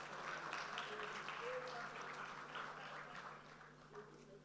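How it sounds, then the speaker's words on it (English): Audience applause at a bank office launch event, a broad spread of clapping that holds steady and then slowly thins toward the end, heard from a distance without speech. "Another round of applause, please."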